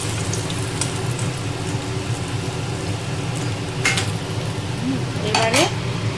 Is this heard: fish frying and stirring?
yes